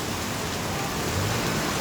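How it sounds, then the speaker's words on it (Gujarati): Heavy rain pours steadily in Vejalpur, Halvad, a dense unbroken hiss of drops close by with no voices. "વેજલપુરમાં પણ વરસાદ ચાલુ છે"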